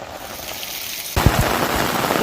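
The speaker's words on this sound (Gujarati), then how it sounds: "બે દિવસ બાદ ફરી ધોધમાર વરસાદની શરૂઆત થઈ" Heavy monsoon rain pours down in Gujarat, a dense hiss that turns sharply louder partway through, with a few close low thuds as the downpour intensifies.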